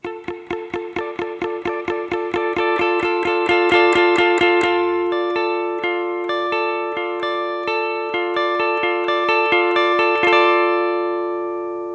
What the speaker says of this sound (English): You can get some great sounds on the electric guitar like this.